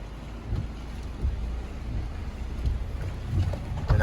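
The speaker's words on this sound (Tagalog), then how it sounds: "Sobrang lakas ng ulan." Dense, heavy rain roars steadily with gusty low rumbles swelling and fading, no voices present.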